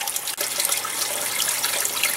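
Water from a pipe pours into a can in a DIY aquaponics solids-filter and waterfall setup, a continuous splashing gush with a brief dip near the start, then steady and close.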